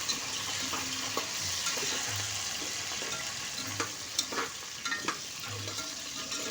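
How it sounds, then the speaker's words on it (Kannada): Whole green chillies fry in oil inside a pressure cooker, a steady bright sizzle running throughout with a few scattered pops and light stirring clinks. "ಕುಕ್ಕರಲ್ಲೇ ಇದ್ದೀನಿ ನಾನು ನೋಡಿ ಚೆನ್ನಾಗಿ ಫ್ರೈ ಆಗೋವರೆಗೂ ಬಿಡೋಣ"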